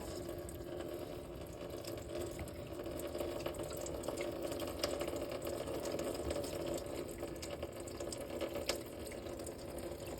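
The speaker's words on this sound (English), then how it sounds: "We're gonna go ahead and undo that petcock drain in a moment." Engine coolant draining from the radiator petcock of a 2016 Hyundai Elantra SE, a steady faint trickling, splashing stream running continuously without pause, with a light mechanical whir underneath and no talking.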